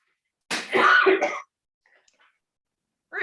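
A man coughs hard in one loud, rough burst lasting about a second, followed by quiet with faint small noises.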